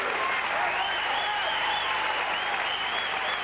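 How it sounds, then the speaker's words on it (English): A tennis exhibition crowd greets player Amanda Coetzer with loud, continuous applause that holds at an even level throughout, with scattered cheers mixed into the clapping. "would you please give a big round of applause to Amanda Coetzer"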